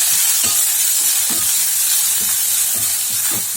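Tamarind, curry leaves, onion, ginger and garlic sauté in a pan, giving a steady, loud frying hiss with occasional soft stirring scrapes underneath, and no talking.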